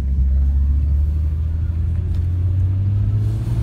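A BMW M3 driving, heard as a loud, steady low engine rumble with a slight rise in pitch, continuous and close with no talk.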